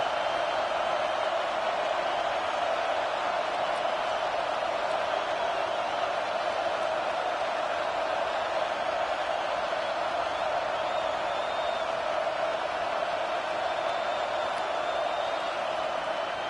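A packed stadium crowd at a Huskers football game sends up a steady, unbroken roar, loud and even throughout, with no distinct swells or cheers standing out.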